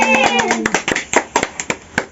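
A small group claps at a family birthday celebration for a dad, quick uneven bursts of hand claps close by, with a sung tune fading out at the start.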